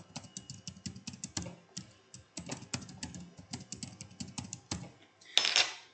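Rapid bursts of key presses on a computer keyboard as a password is entered, uneven clusters of close clicks with short pauses, ending in a brief bright clatter.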